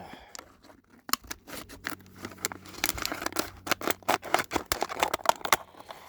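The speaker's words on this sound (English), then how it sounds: "take our scissors and we're going to cut the bottle" Scissors snip and crunch through a plastic bottle, cutting it down the middle with a run of close, sharp, irregular cuts that grow busier toward the end, no voices over them.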